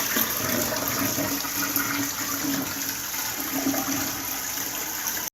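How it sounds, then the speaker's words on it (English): A toilet flushes with a continuous rushing, gurgling wash of water that holds steady throughout, then cuts off abruptly at the end. "one of the first American films to show a toilet flushing on screen"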